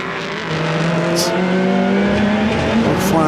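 Ligier prototype race cars at the 4 Hours of Portimão endurance race, running nose to tail: loud, sustained engine drone with rising and shifting pitch as they pass close by, no talk.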